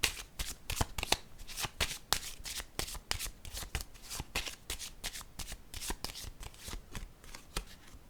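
Playing cards being shuffled and laid down at a table, a long run of quick crisp riffles and slaps in steady rhythm, close and fairly loud with no voices.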